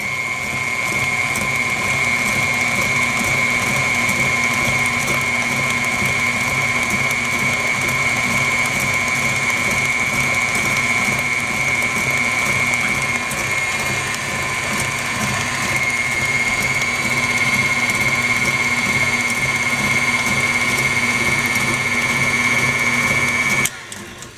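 An electric mixer beats 7 Up pound cake batter, whirring at a steady, loud, constant pitch throughout, then cutting off abruptly near the end.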